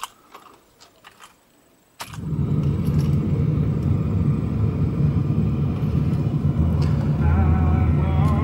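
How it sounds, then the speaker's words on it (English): After a few quiet clicks and rattles, the 7.3-litre Powerstroke diesel of a high-mileage 2003 Ford F350 Super Duty pickup cranks and roars to life, settling into a loud, steady rumbling idle close by. "Now we're going to start the engine."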